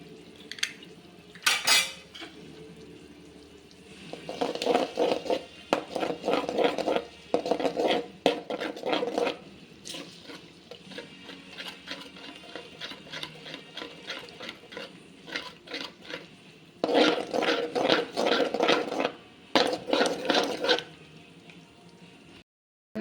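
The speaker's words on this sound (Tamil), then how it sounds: "நம்ம முட்டை கொஞ்சம் கலங்கிடுங்க" Eggs beaten in a bowl for egg pasta, heard as quick rhythmic clinking and scraping of utensil against bowl in several separate bursts with short pauses between them, close and fairly clear, with no voices.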